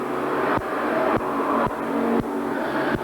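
Race cars roar past on an oval track during a 1991 SS and Sportsman race at OCFS, each pass a loud engine surge cutting off sharply, repeating roughly every half second as the pack streams by.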